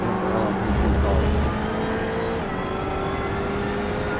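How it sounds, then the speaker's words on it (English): Ferrari race car engines roar in a racing video game at Interlagos, a loud, sustained high-pitched engine drone with shifting tones as cars run at speed, with no talk over it. "I love the sound of the Ferraris"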